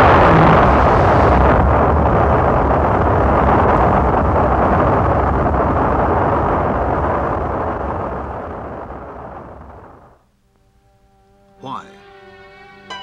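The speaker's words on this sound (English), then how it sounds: "This launch carried an Earth satellite into orbit." A rocket launch carrying an Earth satellite into orbit makes a loud, broad, sustained roar that slowly fades over about ten seconds, followed by near silence and a brief burst of someone talking.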